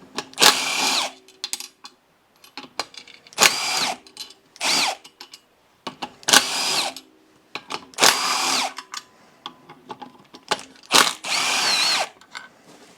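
A power tool spins out clutch bolts on a Polaris Sportsman 800 held in a clutch holder, in about seven sharp, loud whirring bursts separated by short silences, close up and without speech.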